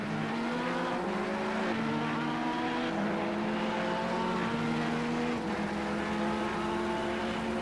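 Race cars from a CA Brophy Trophy session accelerate through the final chicane, several engines droning and shifting pitch in overlapping waves, loud and continuous with no talk.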